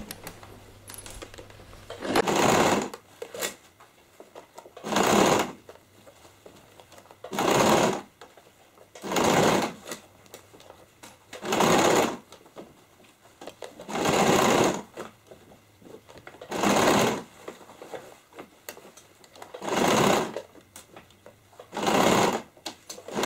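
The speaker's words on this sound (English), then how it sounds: "When you come to the starting point, sew over a little extra, and finish with the back stitch." A sewing machine stitches a handbag made from recycled jeans, running in about nine short, even bursts of rapid mechanical whirring separated by quiet pauses, close and clear with no speech.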